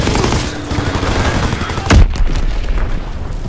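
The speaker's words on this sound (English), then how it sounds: "Enemy bomb incoming. Get to cover." Bomb explosions and gunfire from a Call of Duty WW2 multiplayer match: steady crackling battle noise broken by one loud, deep boom near the middle, followed by a fading rumble.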